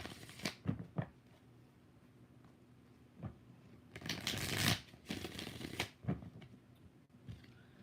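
Tarot cards are shuffled by hand in a series of quick riffling bursts and short flutters, close and clear, separated by brief pauses, with no talking.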